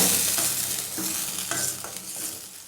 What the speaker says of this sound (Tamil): சுண்டக்காய் வந்து ஒரு ரெண்டு நிமிஷம் அப்படியே எண்ணெயிலே நல்லா வதக்கிட்டே இருங்க